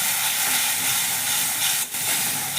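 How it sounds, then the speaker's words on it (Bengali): Spice paste of turmeric, chili, coriander and cumin powders fries in hot oil while cooking a prawn and taro stolon curry, giving a steady, loud sizzling hiss with a brief dip near the end and no voices. "এবার মশলাটাকে আমাকে তেল না ছাড়া অবধি একটু ভালো করে কষে নিতে হবে।"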